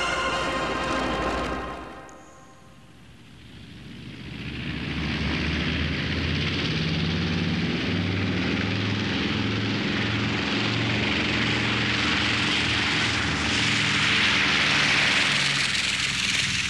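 Drone of a B-29 bomber's piston engines in flight, a steady loud rumbling roar with harmonic engine tones that dips briefly near the start, then builds and holds to the end.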